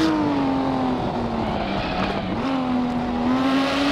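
A Lamborghini Miura P400SV engine in Assetto Corsa drones steadily at moderate revs, its pitch wavering down and back up as the car is driven, close and continuous with no voices.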